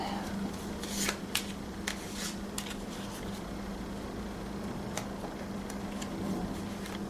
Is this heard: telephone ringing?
no